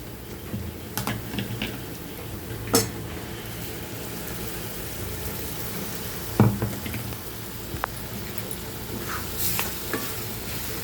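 Tomato paste and spices frying in hot oil give a steady, close sizzle, broken by a few sharp clicks and scrapes of a stirring spoon against the pan.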